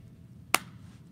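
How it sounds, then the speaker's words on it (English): One sharp hand clap, made as a demonstration, lands alone against a quiet room and decays quickly. "You can clap with your hands,"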